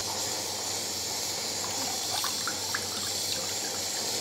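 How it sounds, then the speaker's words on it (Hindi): A pot of water boils on the stove before soaked rice goes in for mutton yakhni pulao. It gives a steady, moderately loud rushing bubble with faint pops throughout. "इसमें उबाल आ चुका है।"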